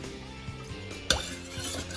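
Grapefruit juice for a zombie cocktail is stirred in a container, with soft sloshing and light clinks, then one sharp bright clink of a spoon against glass.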